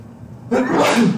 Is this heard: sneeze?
yes